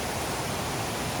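Rushing water at a raging stream crossing on a trail, a steady, loud, broadband roar that fills the whole moment with no break and no voices.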